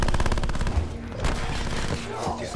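Rapid automatic gunfire in the Black Ops 4 Zombies video game rattles off in a fast, loud burst, followed by heavier blasts and scattered shots with a little game noise.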